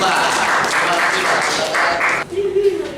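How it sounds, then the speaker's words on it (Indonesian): Audience in a teacher-training classroom session at Universitas Negeri Malang applauds a student group, steady broadband clapping for about two seconds before it drops off and a voice begins speaking. "tepuk tangan untuk kelompok 5"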